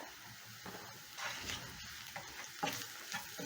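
Spices and a seasoning cube hit a hot pan, giving a quiet sizzle that swells and fades in short bursts as they are stirred, close and soft.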